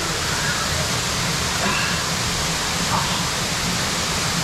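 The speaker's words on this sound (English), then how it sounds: "That's the waterfall and it's just there." A waterfall far below a cliff side roars in a dense, constant wash of broadband noise, steady and unbroken throughout.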